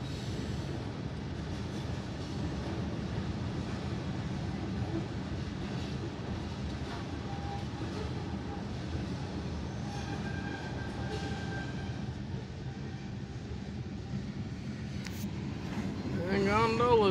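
A Norfolk Southern freight train made up mostly of covered hoppers rolls into Wilmerding, a continuous rumble of wheels and cars close by, with brief squeals and a rise in noise at the end.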